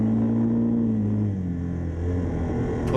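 ATV drifting on frozen Lake Couchiching, a steady close engine drone that sags in pitch then holds, with no voices.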